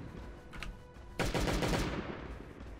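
Gunfire from dual Berettas in the survival video game Last Day On Earth, a sudden loud burst of rapid shots that rings out and decays over about a second, preceded by a couple of faint clicks.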